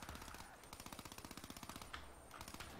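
Rapid automatic gunfire from Call of Duty Zombies, a steady stream of evenly spaced shots at a quick rhythm, faint and close, with no talk over it.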